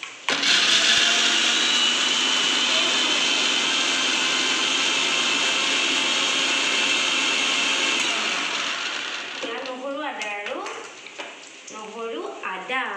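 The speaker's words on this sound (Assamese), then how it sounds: "নহৰু আদা পিঁয়াজখিনি এতিয়া মই অলপমান মিক্সিত মাৰি ল'ম" A mixer grinder whirs loudly and steadily for about eight seconds, pulverizing garlic, ginger and onion into a paste, then cuts off, leaving someone speaking close by.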